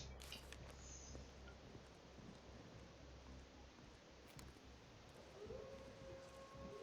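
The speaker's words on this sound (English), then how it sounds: "that sounds like a dog" A dog howls in the Resident Evil 3 Remake video game, a faint, drawn-out wail rising from a quiet, rain-like ambient bed, distant and subdued throughout.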